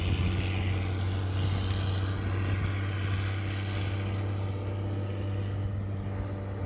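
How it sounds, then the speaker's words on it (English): A tractor passes nearby outdoors, its engine making a steady, loud low drone with a constant hum for the whole stretch, with no talking over it. "there's a tractor going by"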